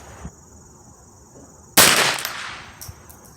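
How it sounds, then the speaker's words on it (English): A single loud, sharp .22 LR shot from a free-floated Remington 597 semi-auto rifle fired at a 75-yard target outdoors, a sudden crack with a brief decaying tail against faint insect hum. "Okay, I'm gonna shoot at the big right low target at 75 yards."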